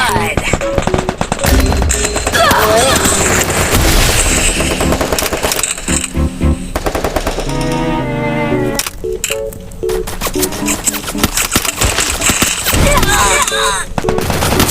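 A shooting video game plays loud, rapid bursts of gunfire and crisp impact cracks, layered over busy game music and effects, with a voice talking at points throughout.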